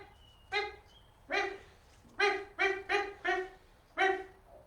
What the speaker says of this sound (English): What do you think a Welsh Corgi sounds like?